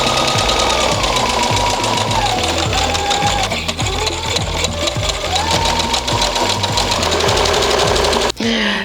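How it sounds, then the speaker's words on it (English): An overlocker sewing machine trims and stitches the fabric edges of a fitted bustier dress, running as a steady, loud mechanical whir for several seconds with a brief dip near the end. "let me overlock these edges so that it looks neat"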